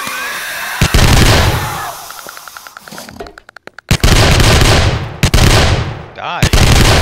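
A video game's rapid gunfire of loud automatic bursts and booming shots crowds the foreground, with brief gaps of sparser single shots between barrages.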